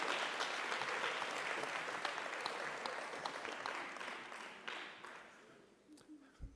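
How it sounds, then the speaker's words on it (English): Audience applause at the close of a university lecture, the Chief Albert Luthuli Research Chair Founders Lecture, a dense steady clatter of many hands that gradually thins and fades toward the end. "Can we give them a round of applause?"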